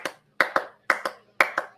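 Crowd doing the Clipper clap at a football game: three pairs of sharp, unison hand claps in a steady repeating rhythm, each pair quick and close together, with brief silence between.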